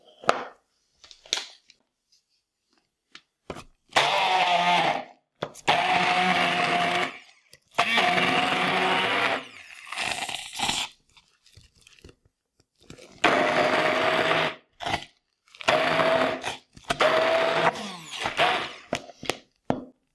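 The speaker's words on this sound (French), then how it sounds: "J'ai mis de l'oignon et les fèves dans un récipient et je vais mixer." A kitchen blender chops onion and fava beans for falafel in several separate bursts of a few seconds each, with short quiet gaps between them. No one speaks.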